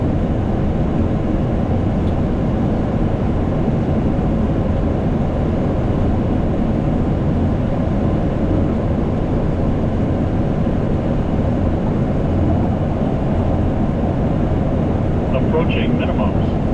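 A Boeing 737 MAX jet taking off in rain and low cloud, heard from inside as a steady, loud broadband engine and airflow roar that holds constant throughout with no break.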